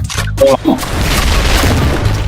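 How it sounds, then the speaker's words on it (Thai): A loud explosive boom from a car blowing up in a video game bursts out early, followed by a sustained rumbling roar of debris and fire, with brief voices near the start. "รถระเบิด"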